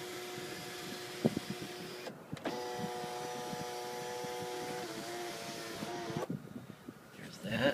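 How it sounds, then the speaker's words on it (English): Electric motor of a 2007 Lexus RX400h moonroof running in a steady whirring hum for several seconds, with faint clicks and cabin handling noises around it. "Let's check the moonroof."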